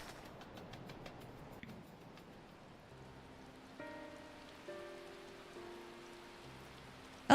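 Rain falls in Final Fantasy XIV: Heavensward, a soft steady hiss of drops at low level, joined partway through by faint sustained musical tones.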